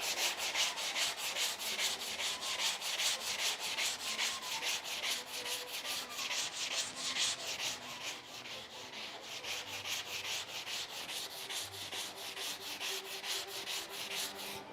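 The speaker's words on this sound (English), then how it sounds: "Okay, and some sanding." A wooden door being restored is hand-sanded before priming, a steady, rhythmic scratchy rubbing with regular back-and-forth strokes that carries on for the whole stretch, close by, with no talk.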